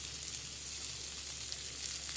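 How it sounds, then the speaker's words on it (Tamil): Manathakkali berries sautéing with softened onions in a pan, a steady close sizzle and frying crackle running evenly throughout with no voices. "மணத்தக்காளி காயை போட்டு வதக்கலாம்"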